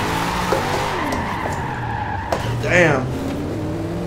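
A Camaro drifting in a racing video game, its tires squealing in long skids over a droning engine, fairly loud and continuous, with a voice speaking briefly over it.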